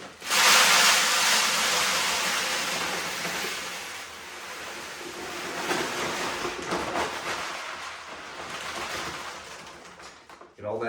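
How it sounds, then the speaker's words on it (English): Bag of rice poured into a 5-gallon bucket, a steady rushing hiss of grains running for about ten seconds, strong at first and then tapering off. "I'm simply going to pour that bag of rice in"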